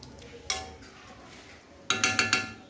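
A pan of fish and cauliflower curry gets a metallic scrape, then a quick burst of four clinks and clatters as a lid settles on top. The sounds are close and fairly quiet, with no talking.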